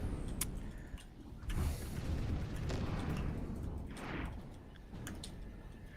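Flak weapon firing in the space game Voyager: Ascension, a run of muffled booming bursts and rumbling explosions layered over a continuous low mechanical drone, moderately loud with no voices.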